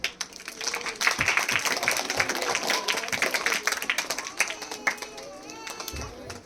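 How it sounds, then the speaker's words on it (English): A school event audience claps to welcome the coordinator to the stage, a close, uneven patter of individual hand claps. Some voices and crowd murmur mix in, and the clapping thins out toward the end. "Let's welcome her with a big round of applause."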